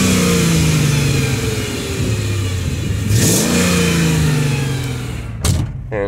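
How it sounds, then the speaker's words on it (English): A Mercedes CLK430 AMG engine idles with a deep exhaust drone, then revs up sharply a couple of times before settling back, loud and close. "Let's show the AMG exhaust real quick"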